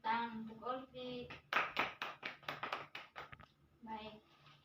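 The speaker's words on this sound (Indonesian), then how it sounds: "Mari kita berikan tepuk tangan untuk Olvi." Applause in a classroom lesson for a student's correct answer, a burst of hand claps of about two seconds between stretches of a teacher speaking.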